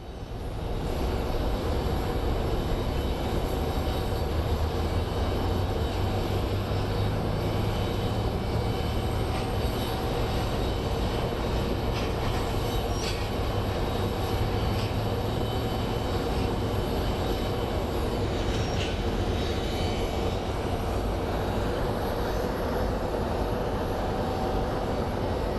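A plane lands at Phoenix Sky Harbor International Airport, its engines giving a broad, steady roar heard from a distance that holds without pause from start to end.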